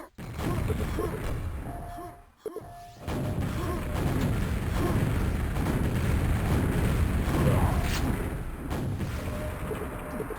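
Grenade blasts in a QuakeWorld 4on4 match roar loudly through dense, continuous game noise, briefly cutting out before the rumbling explosions and gunfire resume.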